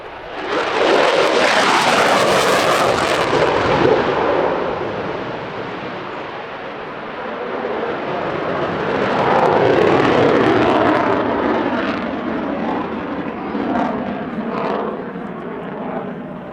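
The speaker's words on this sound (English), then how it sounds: "it's time now for the Viper demonstration team from the US Air Force" A US Air Force F-16CM Block 50 Viper demonstration jet roars past at an airshow, a loud broad jet rush that swells, eases, then surges again over about sixteen seconds with no talk.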